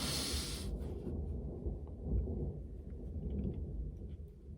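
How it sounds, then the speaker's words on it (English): Low thunder from a distant storm rolls continuously through the clip, a deep sustained rumble with a brief hiss at the start and no voices. "There's the thunder."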